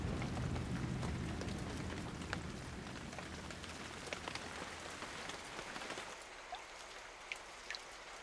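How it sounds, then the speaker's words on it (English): Rain falls in the jungle as a steady, dense patter on leaves and surfaces, with scattered individual drips standing out, and no voices. "rain in the jungle is the elixir of life"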